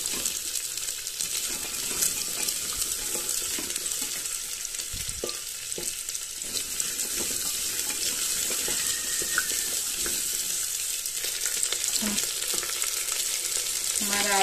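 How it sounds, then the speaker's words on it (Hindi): Diced potatoes frying in oil in a pan after golden-brown onions, for a chana dal, potato and soybean sabzi; a continuous close, crackling sizzle with occasional stirring scrapes, steady throughout. "आलू को भी हम अच्छे से फ्राई कर लेते हैं"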